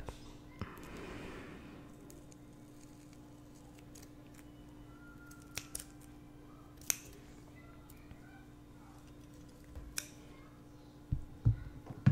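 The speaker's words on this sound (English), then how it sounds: "Then I have to cut it to the lip plate shape." Scissors cutting material into a lip plate shape, quiet close snips and clicks scattered across a soft, near-silent background, with a few sharper cuts toward the end.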